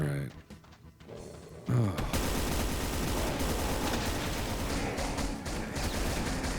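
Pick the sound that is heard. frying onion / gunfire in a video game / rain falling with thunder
gunfire in a video game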